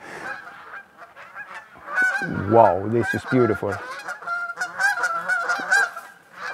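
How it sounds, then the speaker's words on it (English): A flock of geese migrating south from Swedish Lapland honks overhead in a burst of repeated calls, loud and near in the middle, over an outdoor hiss. A person speaks briefly. "There are goose coming from Lapland, in the Swedish Lapland, traveling south."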